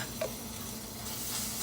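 Garlic being stirred into tomatoes in a hot pan, a steady soft sizzle with faint scraping of the spoon, close and continuous, no voices.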